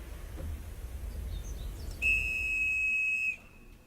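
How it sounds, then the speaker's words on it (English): A clear, high-pitched whistle-like tone sounds nearby, holding steady for just over a second after a quiet low rumble, then cutting off abruptly. "a clear, high-pitched sound like a whistle echoed nearby"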